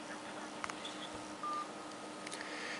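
Touch OS KitKat ROM phone dialer: a few short, faint keypad tones at scattered moments over a quiet hiss, with one longer steady tone in the middle.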